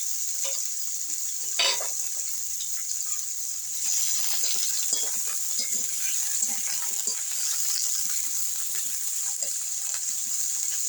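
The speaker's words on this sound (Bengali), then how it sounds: "এই ডাঁটাগুলো একটু ভালোভাবে ভেজে নেওয়া হবে।" Pumpkin leaf stalks frying in hot oil give a steady close sizzle throughout, broken by clinks and scrapes of a spatula stirring them.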